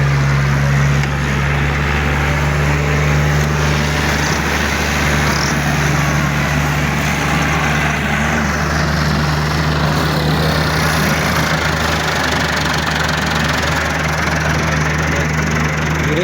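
A modified tractor at a tractor tournament fair runs steadily with a loud, continuous low engine drone and a persistent tonal hum, close by and unbroken for the whole stretch, with no talk over it.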